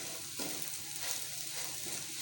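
Okra and onion masala with green coriander stirred in a hot pan, a steady soft sizzle with a light scrape of the spoon, close and quiet, no talk.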